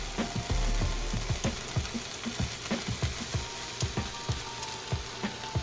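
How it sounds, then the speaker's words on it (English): Three strips of bacon sizzle on a hot grill, a continuous crackling hiss punctuated by frequent sharp fat pops, close and fairly loud with no one talking. "we're gonna put 3 strips of bacon on the grill"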